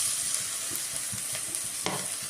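Green chillies hit a hot frying pan with cumin, salt and garlic for a Bengali-style brinjal dish, giving a short burst of close sizzling with light stirring clicks.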